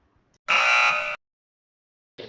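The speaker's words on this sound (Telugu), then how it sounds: "ఈ చేతిలో ఒక బజర్ ఉంది కదా," A game show buzzer is pressed once, giving a loud, harsh electronic buzz lasting under a second, followed by silence and then a brief softer sound at the end.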